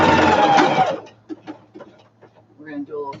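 A sewing machine stitches a fabric seam for a storage bin, giving a loud, close run of about a second that stops abruptly, followed by soft handling noises and a voice speaking.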